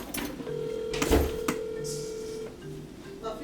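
A telephone rings close by with a steady electronic tone, broken by a few sharp clicks. No one speaks.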